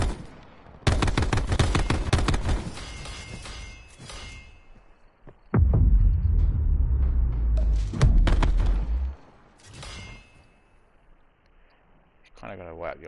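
Gunfire in Call of Duty: Modern Warfare, loud rapid bursts of automatic shots with heavy booming impacts between them, separated by short quieter gaps.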